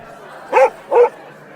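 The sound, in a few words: dog Basil barking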